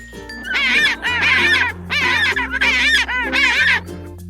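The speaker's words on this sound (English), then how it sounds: "Penguin." A penguin gives a series of loud, harsh, honking calls in four or five rhythmic bursts, heard up close over a soft, steady musical backing.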